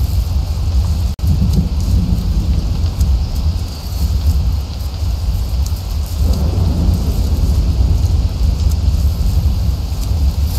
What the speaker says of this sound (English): Let me know if anything's too loud with the storm.